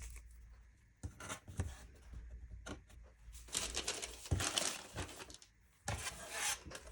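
Pattern paper being slid across a table and taped in place, with quiet rustles, scrapes and short tape-pulling bursts coming in irregular spurts.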